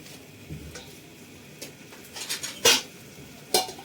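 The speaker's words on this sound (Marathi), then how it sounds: "झाकण मारणार आहोत 5 मिनिटं" A metal lid clanks down onto a pan of potato bhaji made with french-fry-cut potatoes, one loud sharp clatter followed by a second smaller knock, with a few light utensil taps beforehand, close up in a quiet kitchen.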